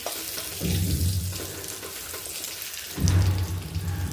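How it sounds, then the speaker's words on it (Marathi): Stuffed green chillies frying in a pan over a medium gas flame, a steady broadband sizzle that swells in two louder bursts, close and continuous with no talk. "मीडियम गॅसवर आपल्याला करायचं आहे जेणेकरून मिरच्या व्यवस्थित परतलं गेलं पाहिजे"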